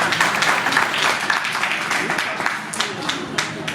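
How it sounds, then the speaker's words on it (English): Audience clapping at a chef award ceremony, a steady patter of many hands at moderate distance, with talk mixed in beneath and a few sharper claps standing out toward the end. "So please clap for them."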